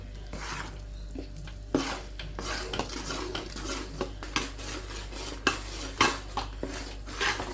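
Wheat and urad dal flour being stirred continuously in a pan on a gas stove, a spoon scraping and clinking against the metal in irregular taps over a steady low burner hum, close and fairly quiet with no talking.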